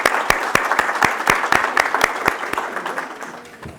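Audience applause fills a theatre hall during a talk on creative processes, a dense burst of many hands clapping with sharp individual claps standing out, loud at first and slowly thinning out toward the end.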